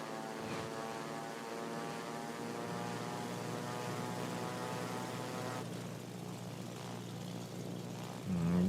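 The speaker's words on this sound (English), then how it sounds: "Got 2 of our aircraft away." Aircraft departing from a port, a steady propeller-engine drone with strong tonal hum that holds evenly, fairly distant, then shifts character and swells near the end.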